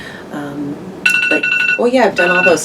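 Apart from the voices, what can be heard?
phone alarm ringing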